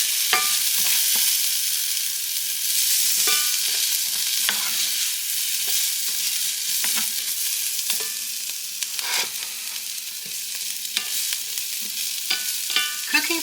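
Bacon bits sizzle in a frying pan while a utensil scrapes and stirs them in irregular strokes, a steady close hiss with intermittent clicks and no talking.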